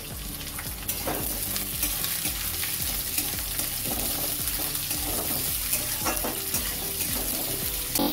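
Finely chopped onions and garlic fry in oil in a pan, giving a constant close sizzle broken by repeated scraping and stirring strokes, with no voices.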